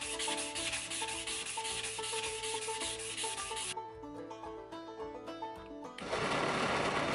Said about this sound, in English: You might have to sand a couple of different directions and then finish sand one direction so you get nice smooth pins.